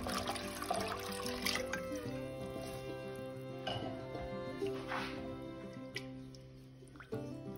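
Water pours steadily into a cooking pot for Czech garlic soup, giving a continuous splashing and rushing sound close by with a few sharper splashes toward the end.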